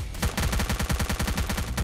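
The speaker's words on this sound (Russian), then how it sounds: "я слышал выстрел со СВУ. Похоже, где-то на холме." Rapid burst of gunfire in the S.T.A.L.K.E.R. SGM mod, attributed to an SVD sniper rifle, heard as a quick run of sharp evenly spaced reports over a couple of seconds with no talk.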